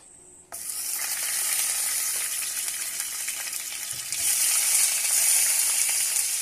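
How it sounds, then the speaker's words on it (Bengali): Hilsa fish drop one by one into hot mustard oil in a kadai, setting off a sudden loud, hissing sizzle that swells even louder when the next piece goes in, with no talk. "মাছগুলো একে একে কড়ার মধ্যে দিয়ে দেব"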